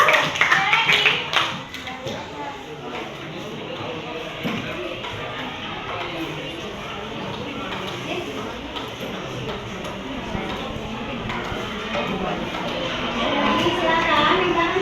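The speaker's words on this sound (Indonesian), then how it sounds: "tepuk tangan dulu buat kalian" A classroom of students applauds, a broad, ragged wash of clapping that swells at the start and again near the end, mixed with chatter and voices throughout.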